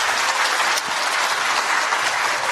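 An audience at a Democratic Party forum claps for an arriving lawmaker, a dense, steady wash of applause filling the whole stretch with no voices over it.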